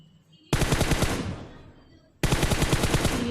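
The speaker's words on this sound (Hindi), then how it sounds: "जैसे फायर देता हूँ" An M416 assault rifle in the video game PUBG Mobile fires two loud, close automatic bursts of rapid shots, separated by a brief fading pause.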